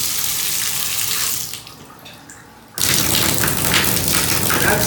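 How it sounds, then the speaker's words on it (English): Water gushes loudly from a newly replaced bathtub spout with diverter, a steady close hiss that briefly drops off and then surges back in at full force. "Water goes on, flowing like that."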